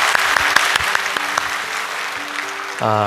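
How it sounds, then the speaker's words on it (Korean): A church congregation claps steadily for a few seconds, then a voice begins speaking over the last of the applause. "우리 박수로 축복하고 격려하겠습니다"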